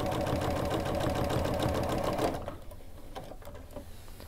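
A sewing machine with a walking foot quilts a straight line across a cross-hatch quilt, its steady close whir running for about two seconds, then stopping and leaving quiet handling sounds.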